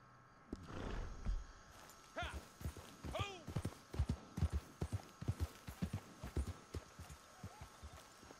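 Horse hooves clip-clop at a steady trot in the Western video game Red Dead Redemption 2, a quick rhythmic series of thuds, with a whinny or snort early on and someone talking over it.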